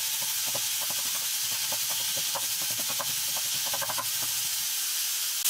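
Turnips caramelizing with sugar in a hot pan, a loud continuous sizzling hiss with scattered small pops and crackles throughout.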